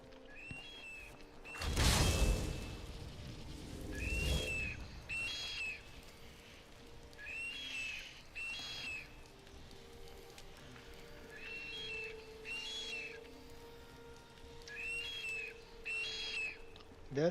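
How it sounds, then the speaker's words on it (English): A noisy bird in Skyrim gives short whistled calls, repeated in pairs every second or so, fairly clear over a quiet ambient bed, with two heavier rumbling thumps near the start. "That is a noisy bird."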